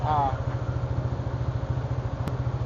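A Kymco KRV180 scooter fitted with an MTRT SP2 exhaust and stock elbow idles with a steady, rapid low putter, close by, while a voice briefly speaks at the start.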